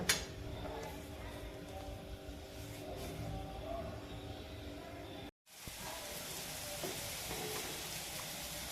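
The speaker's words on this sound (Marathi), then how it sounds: "आता कढीला चांगली उकळी घेऊ" Traditional kadhi, a yogurt curry with curd, water and fresh coriander, boils in a pot on the stove, giving a steady, continuous bubbling hiss that breaks off once before resuming.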